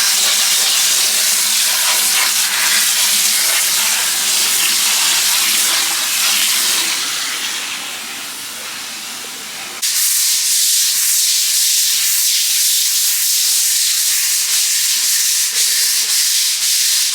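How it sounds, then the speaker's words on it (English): Etching solution sizzles on a concrete floor with a loud, continuous broadband hiss that dips briefly in the middle, then comes back just as strong. "You hear it like sizzling too a little bit."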